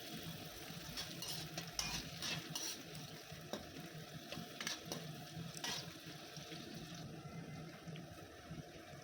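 Capsicum and onion sizzle and crackle in a hot pan over low heat while a utensil stirs and scrapes in irregular strokes, close and fairly quiet.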